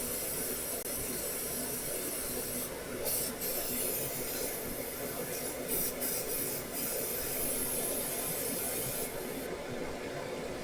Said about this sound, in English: I'm just trying to mix the primer with the cleaner so that I can then spray it out